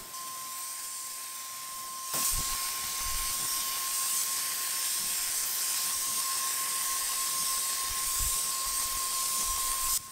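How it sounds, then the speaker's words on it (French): A low-pressure spray gun sprays golden oak varnish in a steady, loud airy hiss that starts abruptly after a moment of quieter tone and holds evenly to the end, with a faint constant whine running throughout. "c'est la première fois que je mettais du vernis avec un pistolet au volume basse pression"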